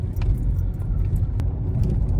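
A small Mazda 3 climbing a rough, washed-out mountain road, its engine a steady low rumble mixed with road and tyre noise and a few sharp knocks from the uneven surface.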